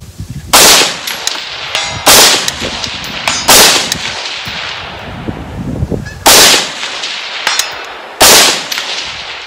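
Five loud 5.56 rifle shots fired at a 300-yard target outdoors in a strong crosswind, each sharp crack followed by a short decaying echo, spaced irregularly a second or two apart with no talking.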